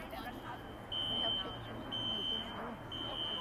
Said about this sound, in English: there is some sort of alarm going off in the Beverly Hills High School.